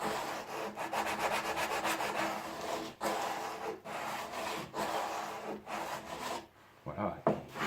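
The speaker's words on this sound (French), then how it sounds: "vous prenez un papier de verre avec une cale, bien sûr" Wood being worked by hand with abrasive paper on a block, giving a steady run of rhythmic rasping back-and-forth strokes, fairly close and moderately quiet, with a brief pause near the end.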